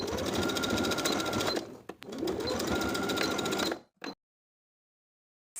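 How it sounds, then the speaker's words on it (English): A sewing machine stitches in the ditch along the seams of a shirt cuff, running loud and steady in two long bursts with a short pause between, then stopping abruptly. "And I'll stitch in the ditch at both seams to secure the fold in the cuff."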